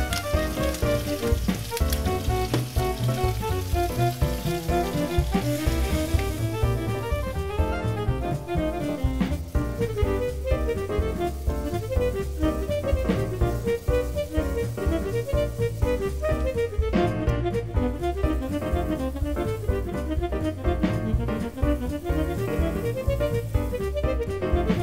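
Chicken pieces seasoned with salt and black pepper frying in a pan, a steady dense sizzle and crackle that runs unbroken and fairly loud throughout, close up with no talking.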